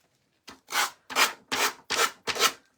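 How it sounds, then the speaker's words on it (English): A small hand sander rubs excess material off a pumpkin shadow box in five even, close, raspy strokes, each about half a second, with no talk. "Where's my little sander? And then I'm just going to sand off the excess."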